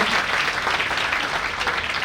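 Audience applause at a Sidpara family community get-together in Rajkot, Gujarat, as a guest is welcomed; dense, steady clapping from a large crowd filling the whole stretch without a break.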